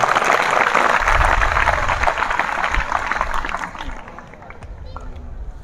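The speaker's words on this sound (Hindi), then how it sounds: "इन सभी वैज्ञानिकों के लिए एक बार पुनः जोरदार ताली।" Applause from an audience honouring ISRO scientists of the Chandrayaan-3 mission: a dense, sustained wash of clapping and crowd noise, loud at first and thinning slightly toward the end.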